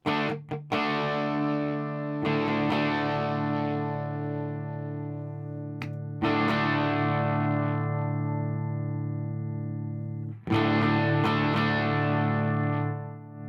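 An electric guitar plays sustained, slightly distorted chords through a Fender Princeton tube amplifier, struck four times and left to ring out between strums.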